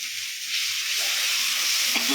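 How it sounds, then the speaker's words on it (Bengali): Spice masala fries in a pan, a loud, dense, hissing sizzle that holds steady, with a faint scrape of stirring near the end. "এবারে হাফ মশলাটা কষাই ছিল আবার একটু ভালো করে কষবো"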